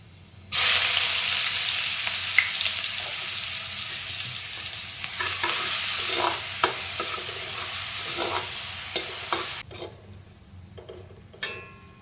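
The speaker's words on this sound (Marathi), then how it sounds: "ठेचलेलं लसूण पाकळ्या टाकणार आहोत दोन कांदे बारीक चिरलेले टाकणार आहोत" Crushed garlic cloves and finely chopped onions dropped into hot oil for a crab curry, setting off a loud, steady sizzle with stirring clicks that begins abruptly and dies away near the end, with no talking.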